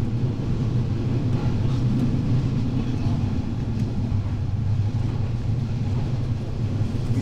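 Steady low rumble inside a moving local train in southern Bōsō, Chiba, Japan, a constant droning ride noise with no voices, loud and even throughout.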